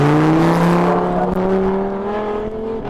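A hill climb race car with a sequential gearbox accelerates hard, its loud engine note climbing steadily through the gears as it pulls away, close and unbroken.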